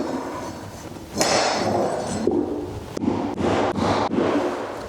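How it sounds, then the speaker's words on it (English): Hammer tapping luxury vinyl plank flooring into place during installation, a series of sharp knocks at close range with broad bursts of sound between them. "if it doesn't want to drop, just give it a little tap"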